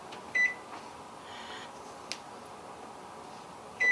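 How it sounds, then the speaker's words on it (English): An oven is switched on in a home kitchen while sugar cookies are being made: a few sharp electronic beeps from the controls and a single soft click over a quiet room hum. "So, While you tell your story, I'm going to fire up the oven."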